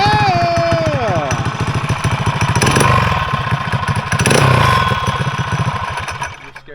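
A Honda CR80 dirt bike engine runs loud and close with a rough two-stroke rumble that rises and settles over several seconds, while people talk over it.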